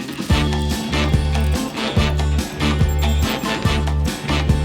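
Ratchet wrench with an 11 mm socket working on the tow mirror bolts of a 2005 Ford F-350, heard as rapid repeated clicking ratchet strokes in a steady rhythm, close and clear.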